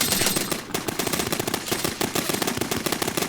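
A machine gun fires in rapid sustained bursts in the Men of War: Red Tide game, close and loud, with dense crackling shots running throughout.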